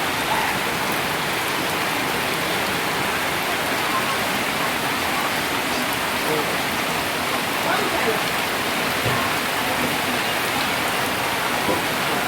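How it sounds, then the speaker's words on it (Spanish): Heavy rain during Storm Franklin, a dense continuous hiss of water pouring down steadily and evenly throughout, close and loud with no pauses. "Ahora es que el agua está un poco más fuerte."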